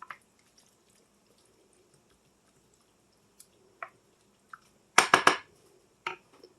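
Sloppy joe ingredients stirred together with a wooden spoon: mostly quiet, then scattered soft wet squishes and clacks building to a loud cluster of thick, sloppy stirring sounds near the end, close by, with no talk.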